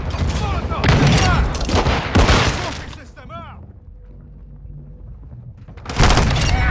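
Rapid gunfire in the Call of Duty video game, loud close volleys crackling for about three seconds, then a quiet stretch of ambience before another burst breaks out; chirping effects appear mid-clip.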